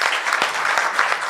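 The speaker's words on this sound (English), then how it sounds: "So a round of applause for the panelists." Audience applause for the panelists at a surgical society's annual scientific conference, steady clapping from a sizeable crowd filling the short moment without any talk.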